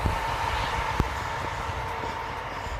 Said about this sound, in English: Just caught that train as it went past.